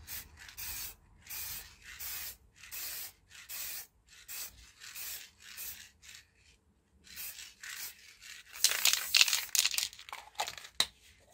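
Lacquer is sprayed onto a White Wings model aircraft in short repeated bursts of hissing spray separated by pauses, ending in a louder, rougher stretch of handling noise.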